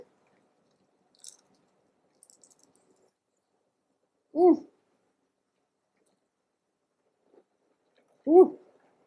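Two separate crisp crunches from chewing crunchy battered fried prawn, several seconds apart, close to the mic in an otherwise quiet room.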